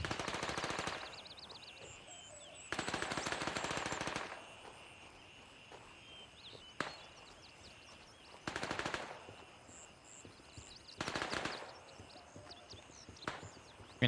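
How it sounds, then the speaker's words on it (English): Bursts of rapid video game gunfire in Gray Zone Warfare erupt repeatedly at a construction yard, some long rattling volleys and some short pops, separated by quieter stretches of ambient noise. "And I hear gunshots."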